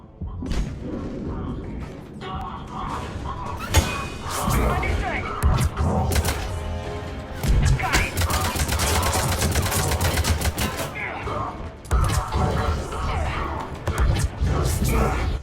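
Grenade explosions and gunfire in the video game Mass Effect 3, a dense, loud barrage of booms and thuds rumbling almost continuously, with a player's excited voice over the chaos.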